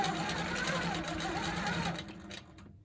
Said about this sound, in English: that's what it looks like to do a stitch in the ditch with my little Versatool